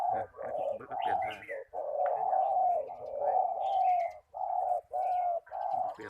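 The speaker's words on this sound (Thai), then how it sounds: "เนี่ยคู่อ่างเสียงใหญ่เนาะ" A deep-voiced spotted dove coos in repeated low, rounded phrases, fairly close and clear, with short gaps between calls and faint chirps from other birds in the background.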